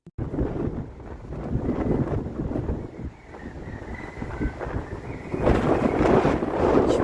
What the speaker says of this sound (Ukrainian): Чуєте, як вітер по трубах шумить?